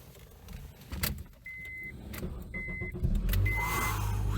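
A Honda 4-cylinder car with about 115,000 miles goes through a few warning chimes and clicks, then its engine cranks and catches, settling into a steady idle close by.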